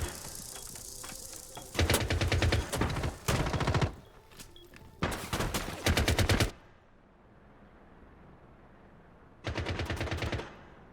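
Rapid automatic gunfire bursts in a tactical shooter, several loud rattling volleys between about 2 and 7 seconds, then a quiet lull and one more burst near the end.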